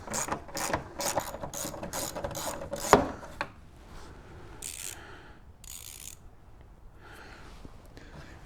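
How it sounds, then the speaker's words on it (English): A ratchet backs out bolts on a BMW F22 2-Series taillamp, with rapid close pawl clicking in quick bursts for the first three seconds, then a few scattered metallic clicks and rasping turns afterward. "remove these two bolts so that we can loosen up this tail lamp unit"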